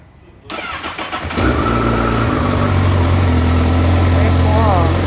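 A motorcycle engine cranks briefly, then catches and settles into a loud, steady idle close by, with a small rev near the end.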